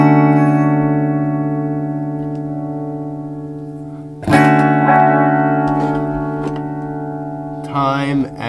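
Electric guitar chords ring out through a chorus effect pedal, shimmering sustained tones that decay slowly, then a fresh strum at about four seconds and another near the end, alone with no talk.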